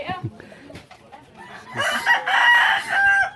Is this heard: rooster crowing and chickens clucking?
yes